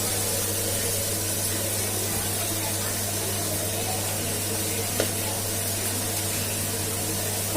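Onions and garlic sautéing in a pan for an okra stir-fry, giving a steady, even sizzle that holds at one level throughout with no talking.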